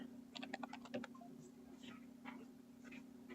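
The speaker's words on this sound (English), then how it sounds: "I'm going to just type it in" Quiet clicking of a computer keyboard in a steady hum, a fast flurry of keystrokes followed by a few sparser taps, near but faint.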